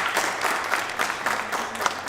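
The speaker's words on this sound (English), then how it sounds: "Let's have a round of applause for all the parents" A crowd at a graduation ceremony applauds with steady, dense clapping that holds at an even level throughout, without a break.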